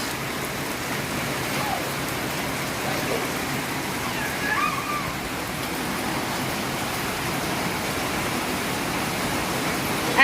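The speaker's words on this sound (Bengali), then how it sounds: "খুব বৃষ্টি হচ্ছে এখানে, দারুণ ওয়েদার" Heavy rain falls outdoors near a resort at Ghatshila, a dense, steady hiss with a few faint passing noises, continuous and fairly loud throughout.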